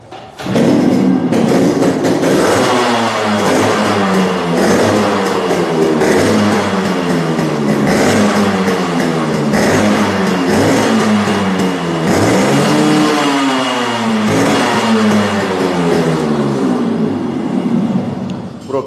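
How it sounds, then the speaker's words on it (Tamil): A Yamaha motorcycle engine starts and revs repeatedly, loud and close, with rising and falling pitch sweeps through sustained throttle blips and steady idle between, no talk over it. "இந்த வண்டி ஸ்டார்ட் பண்ணி காட்டுறேன்."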